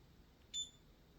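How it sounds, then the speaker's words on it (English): An LG UltraGear 24GQ50F-B gaming monitor gives a single short, high electronic beep at power-on, faint and brief against a quiet background hum. "when you turn it on, it will give you a little beep"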